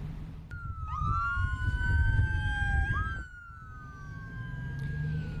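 An ambulance at a border crossing into Texas sounds its siren at a moderate distance, a wailing tone sweeping up and down and then switching pitch pattern, over steady traffic rumble.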